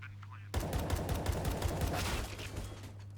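Rapid gunfire from an online shooter match during a Major qualifier, a dense burst of overlapping shots starting abruptly after a quiet lead-in and continuing loudly to the end, with a steady low hum beneath.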